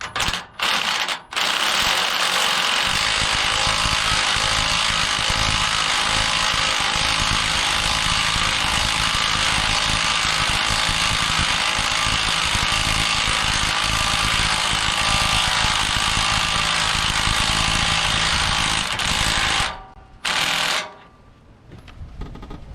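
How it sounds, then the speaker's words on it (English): A motorized spare tire holder on a teardrop camper runs with a steady mechanical whirring and ratcheting grind for about twenty seconds, then cuts off with a few brief clicks at the end. "There it is, motorized spare tire holder."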